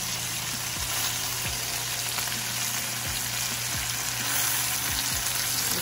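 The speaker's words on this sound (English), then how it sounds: "This should sizzle for me." Food sizzles and crackles steadily as it fries in a pan, a dense continuous hiss with a few soft clicks and taps, close and unbroken.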